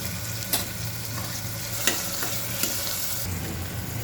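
Peanuts and spices for Gujarati vagharela khichdi being stirred in a hot pan, giving a continuous sizzle and occasional spatula taps and scrapes, close up with no voices.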